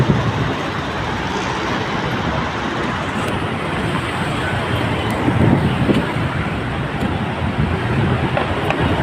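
Steady, dense traffic on a congested road in Bicutan, Sucat: a continuous low rumble of idling and creeping vehicles, fairly close, with wind buffeting the microphone and a few brief louder passes, no talk.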